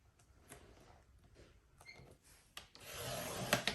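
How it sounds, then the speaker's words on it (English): A blade trimming excess white printable vinyl on a plastic drawer, heard as faint scattered scrapes and taps that build into a longer, louder rasping cut near the end, close up and without speech. "We're going to just trim off the white excess."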